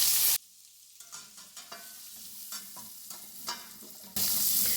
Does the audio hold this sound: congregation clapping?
no